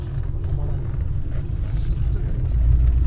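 A long-distance intercity coach bus in Thailand, bound for Bangkok, gives a steady low engine rumble from inside the cabin, rising a little toward the end, with faint voices in the background.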